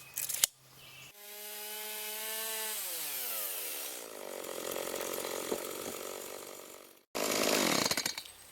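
A chainsaw mini mill rips the final cut lengthwise through a small log, the engine revving hard with pitch sweeping downward as the bar loads in the wood, then a brief drop and a fresh high rev at the end.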